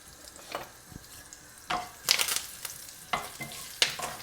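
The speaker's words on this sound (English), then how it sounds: "In goes a teaspoon of cumin seeds and let them sizzle." Crackling sizzle of cumin seeds hitting hot oil, in short bursts with brief stirring scrapes between them, close up and with no talking.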